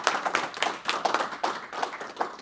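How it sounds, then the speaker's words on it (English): A few people clap in a rhythmic, uneven patter. The clapping is close and moderately loud, with distinct individual claps rather than a dense roar, during an online hack week presentation session. "We can have another applause for Samuel."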